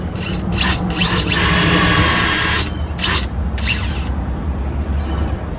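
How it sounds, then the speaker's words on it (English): A power drill whines in short bursts while drilling into a steel door, then runs in one sustained grinding stretch before a few more quick pulses. "I'm just going to drill in."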